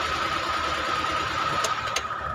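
A Suzuki car engine with a faulty camshaft sensor, after overheating, runs at a steady idle with a continuous hum and a faint whine, loud and close, with a couple of brief clicks near the end.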